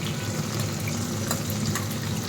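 Tomatoes and grated coconut frying together in a pan, a steady low sizzle and crackle that runs evenly throughout, close by and fairly quiet, with no voices.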